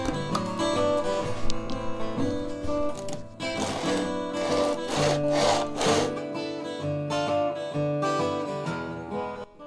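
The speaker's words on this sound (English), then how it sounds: "Now the rim is mounted solidly in the form for support and simply ground down, making a hideous noise in the process." An acoustic guitar rim held in a cylindrical radius dish is ground down, giving a harsh, continuous rasping and scraping of wood in repeated strokes. Background music plays loudly over it.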